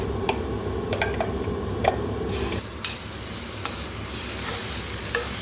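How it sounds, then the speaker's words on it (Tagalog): Tomato paste stirred into herbs frying in oil, with steady sizzling, spoon clicks and scraping against the pan, and the texture shifting halfway through as the paste goes in. "Ngayon, ihalo lang natin siya sa ating pinipritong mga herbs"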